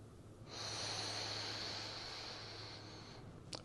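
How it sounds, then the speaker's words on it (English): One slow, deep inhale through the nose lasts about three seconds during a lower-back stretch. It is soft and close in a quiet room, with no speech. "Hold as I breathe in."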